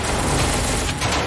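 A loud, dense burst of rapid gunfire in a Minecraft SCP mod, shots blurring into one continuous rattle over a brief moment with no talking.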